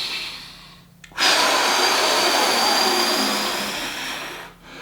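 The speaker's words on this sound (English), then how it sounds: "your breathing pattern is going to be through pursed lips, like you're blowing out a birthday candle" A long, steady exhale pushed out through pursed lips, close and loud, a forceful airy rush like blowing out a birthday candle, with a brief inhale just before it.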